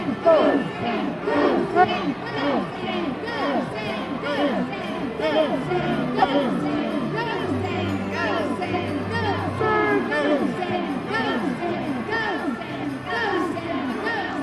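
Crowd noise from a large outdoor holiday gathering at Light Up Louisville, with the Fly Guys performing and Santa on stage, a steady cheering, chattering mass heard throughout under voices.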